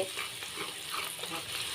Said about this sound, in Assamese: চবেইখিনি কেঁচা ভাৱটো নাইকিয়ালৈকে ভাজি ল'ম, যেতিয়ালৈকে তেলটো এৰি নিদিয়ে